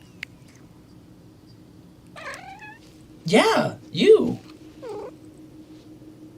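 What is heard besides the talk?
pet cat Pollux chirping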